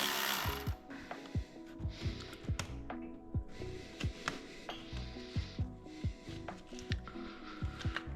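A ratchet loosens a 10 mm bolt on a car during a hybrid turbo install on a GLI, giving a steady series of quiet, close clicks in a regular rhythm.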